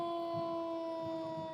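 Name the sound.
fire engine sirens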